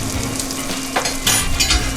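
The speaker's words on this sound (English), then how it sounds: "we'll just stir this around until that butter melts" Butter melts and is stirred over medium heat in a pan for sausage country gravy. A steady close sizzle runs throughout, with brief scraping and stirring clatters layered over it and no voices.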